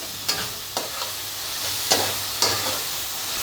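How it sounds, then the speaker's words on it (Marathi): A spicy masala of red chili powder, tomato and salt fries in a pan with a steady low sizzle, broken by four or five sharp scraping strokes of a stirring spoon. "आता आपण लाल तिखट टाकू आणि टमाट टाकू चवीनुसार मीठ टाकू याला चांगला व्यवस्थित फ्राय करून घेऊ"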